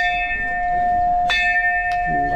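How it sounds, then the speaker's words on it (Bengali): A large temple bell at Shanti Baba temple in Kahalgaon, Bihar, rings loud and close with a sustained metallic hum, struck again midway and once more faintly near the end. "চলো এবার আমরা মন্দিরের উপরে উঠছি, ঘন্টা বাজছে"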